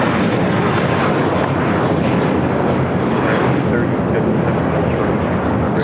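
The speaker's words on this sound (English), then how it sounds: "This is JetBlue Airways Flight 424 taking off to JFK on the A321." A JetBlue Airbus A321 jet takes off at LAX, its loud, broadband engine roar filling the whole stretch steadily from a moderate distance.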